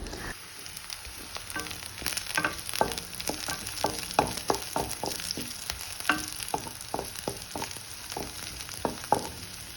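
Onions and tomatoes with chopped green chillies sautéing in a pan for Karaikudi Chettinad chicken masala, a continuous close sizzle with frequent quick spatula scrapes and taps in an uneven rhythm.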